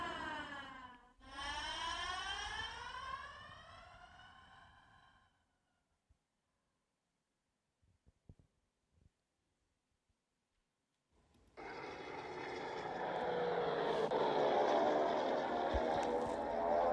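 A Junkers Ju 87 Stuka dive bomber's screaming siren wails in rising and falling sweeps. It fades out, leaving near silence broken by a few faint knocks, then swells back loud.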